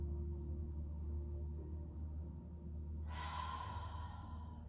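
Slow, soft deep breathing during a yin yoga back stretch, with a long quiet stretch before one gentle exhale that swells near the end.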